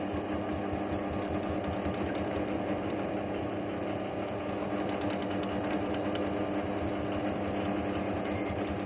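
A power drill runs steadily while boring holes into a brake pad, a continuous whirring grind held at even loudness throughout with no voices.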